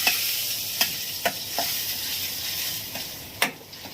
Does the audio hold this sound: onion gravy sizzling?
yes